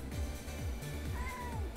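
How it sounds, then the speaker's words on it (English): A cat meows repeatedly in short rising-falling calls, close and fairly quiet against a steady background hum, with no talking. "There's a cat right here."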